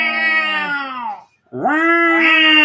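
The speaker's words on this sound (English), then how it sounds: "every time this cat meows, it sounds" A cat gives two long, loud, drawn-out meows close by, each a wailing, caterwaul-like cry, with a brief silent gap between them and no talking.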